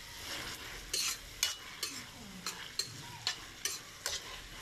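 A utensil stirs stir-fried eggplant with sambal chili in a pan, giving soft regular scrapes and taps over a faint sizzle. The sound is quiet and close, with no speech.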